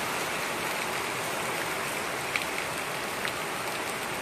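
A downpour of heavy rain roars evenly and loudly throughout, a constant near wash of water with a couple of faint drips standing out and no voices.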